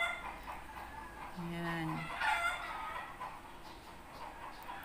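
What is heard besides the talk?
neighbors' chickens and rooster crowing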